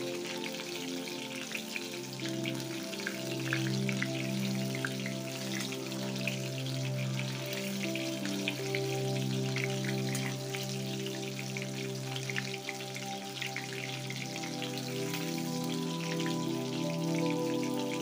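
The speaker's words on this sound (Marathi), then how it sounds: "एकदम कडकडीत तेलात आपण तळून घेतले" Soya chunks deep-frying in very hot oil for soya 65, a loud, dense crackle of bubbling oil with constant rapid popping, steady and close throughout, and nobody speaking.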